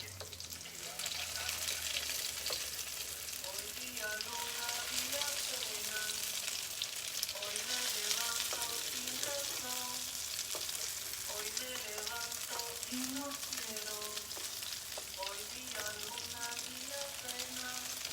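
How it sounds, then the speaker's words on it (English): Cauliflower falafel frying in a pan on the stove, a steady oily sizzle with bubbling crackle lasting the whole stretch, close and fairly loud, with no talk over it. "I'm taking you back to the stove so you can see how the falafel is going. I'm gonna flip it now."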